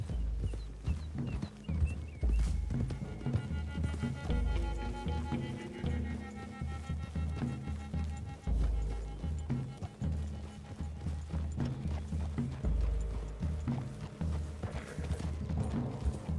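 Horses' hooves clip-clop steadily through a wooded area in the video game Red Dead Redemption 2, a continuous quiet rhythm of several animals walking, with soft background music.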